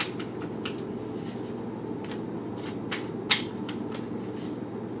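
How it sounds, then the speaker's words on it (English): Soft, steady shuffling of playing cards with light flicks and taps, ending in a sharper snap near the end, fairly close and quiet. "I think that's why I keep shuffling them"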